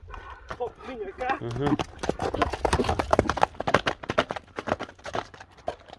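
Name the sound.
horse hooves clip-clopping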